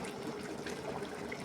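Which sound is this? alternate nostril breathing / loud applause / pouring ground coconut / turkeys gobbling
pouring ground coconut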